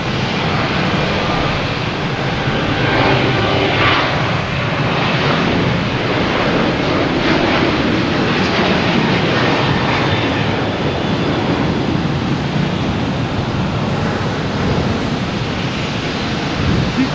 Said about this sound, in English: Southwest taking up to Denver.